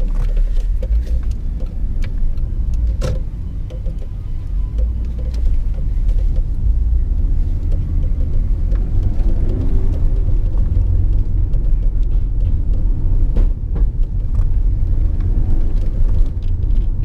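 A 1992 Toyota Soarer drives along with a steady, loud low engine and road rumble, a continuous droning cabin sound with a few light knocks and no talking.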